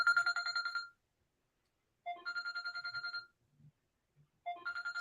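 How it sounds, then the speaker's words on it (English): A mobile phone ringtone plays a loud, clear melodic phrase that repeats three times with short silent gaps, with no talking over it. "I didn't quiet my phone."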